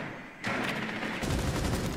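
A sudden burst of rapid video game gunfire erupts after a brief quiet moment, loud and sustained like automatic weapon fire.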